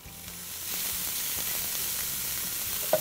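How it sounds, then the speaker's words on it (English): Italian sausage sizzles steadily in olive oil in a pan over medium-high heat, a continuous close frying crackle with a few stirring scrapes and one sharp clink near the end. "just break up our sausage and add it to the pan"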